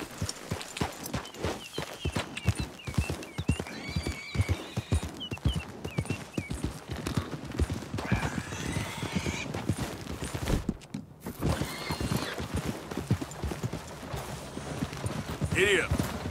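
A horse in Red Dead Redemption 2 trots along with a steady clip-clop of hooves, and a whinny may rise over the hoofbeats. Someone talks over the riding throughout.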